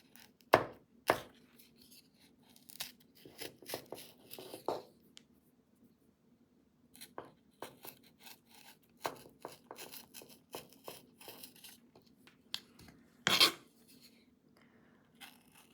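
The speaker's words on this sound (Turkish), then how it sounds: "Bir aloe vera e, dalını alalım ve şu diken taraflarını keselim." Knife chopping through a thorny aloe vera leaf to trim off its spiny edges, a run of crisp cutting taps, mostly quiet with irregular bursts and one sharp louder slice near the end.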